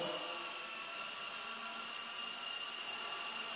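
A Solo Pro 328 radio-controlled helicopter at full throttle indoors, a constant high-pitched whining buzz of motor and rotor, steady and close with no break.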